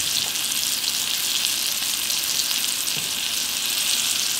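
Flour-dusted hairtail fish frying in oil in a pan over medium-low heat, giving a steady, dense hiss and crackle that continues evenly throughout, close and fairly loud, with no talking.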